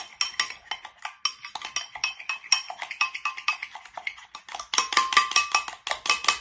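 A homemade face mask mixture is stirred in a bowl, with rapid repeated clinks and scrapes of a utensil against the dish, close and fairly loud and growing busier toward the end.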